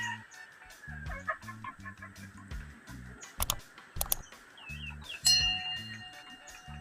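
Five young male chicks shut in a cage give faint cheeps and soft clucks over a quiet background, with repeated low tapping and clicking knocks and a few sharper clinks.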